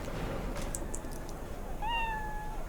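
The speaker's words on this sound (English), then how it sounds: "It's a cat." A cat in the video game Cyberpunk 2077 gives a single clear, rising meow near the end, heard alone over a steady low background hum.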